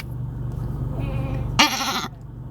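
A person mimics a goat's bleat, a short nasal wavering cry that rises sharply near the end of a brief stretch of low background noise.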